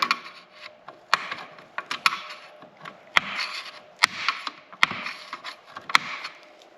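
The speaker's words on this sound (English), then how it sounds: "we're just going to get in here and peel this little keeper back with a screwdriver" A screwdriver pries back a small pin keeper on a Minn Kota Terrova trolling motor steering housing, giving close, irregular sharp metallic clicks and scrapes over faint rubbing.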